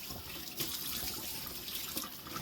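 A kitchen tap runs steadily into a sink as food, prepared for canned beef, is rinsed by hand. There is continuous close splashing with faint clatter and no speech.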